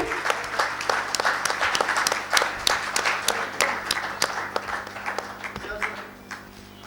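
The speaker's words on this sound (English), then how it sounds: "A huge round of applause, ladies and gentlemen" Audience applause for panelists at a military seminar on battlefield digitisation, a dense sustained clapping from a crowd that fades toward the end, with a low hum underneath.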